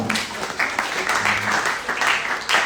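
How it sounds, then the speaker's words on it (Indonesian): Brief audience applause at a campus financial talk, a short burst of clapping with some voices underneath, uneven in density over a few seconds. "Tepuk tangan buat kalian semua"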